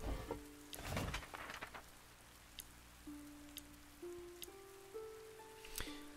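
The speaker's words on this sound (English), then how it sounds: "Okay, rain is okay." Rain falls steadily in the video game Dead in Vinland, a soft constant patter under sparse game music tones and occasional light clicks.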